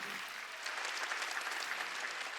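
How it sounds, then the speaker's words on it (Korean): A church congregation at a Wednesday worship service claps together, a dense, even wash of applause with no talking, heard at a modest distance. "빨리 박수치라"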